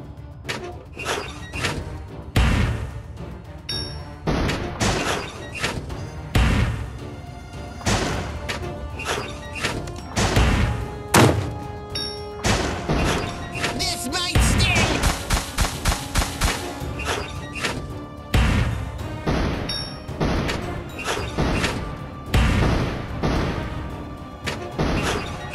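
Bomb explosions in the video game Kingdom Rush Vengeance, a rapid series of loud crashing blasts and thuds, dense and overlapping for the whole stretch with brief gaps between bursts.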